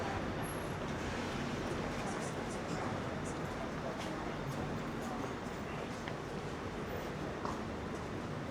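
Dense, continuous London city street traffic near Trafalgar Square on a morning walk, a steady broadband roar of cars and buses passing close, with faint scattered higher sounds and no clear voices.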